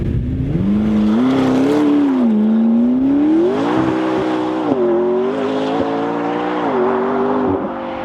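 A McLaren 650S sports car on a Grand Prix racetrack, its engine loud and close from inside, rising and falling through revs and gear changes with a brief tyre squeal.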